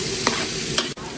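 Garlic and onion are stirred and sautéed in a pan, a steady close sizzle with two brief scraping strokes of the utensil and a short clack near the end, with no talk.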